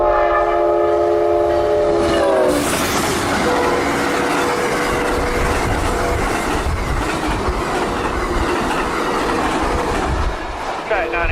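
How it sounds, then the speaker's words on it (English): Amtrak passenger train 91 highballing through Winston on track 1 past a CSX signal: a loud, close horn blast opens, then a steady rush of wheels and rumbling cars fills the rest. "The dispatcher has set up Amtrak 91 to highball through Winston on track 1"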